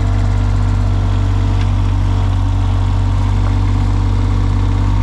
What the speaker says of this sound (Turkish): Adam küçük bir tane böyle traktör gibi bir şey almış.